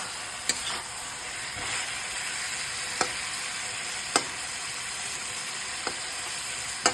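Hot water poured onto vegetables frying in a pan, a steady broadband sizzle and hiss of steam with a few sharp pops and clicks spaced through it, close and moderately loud.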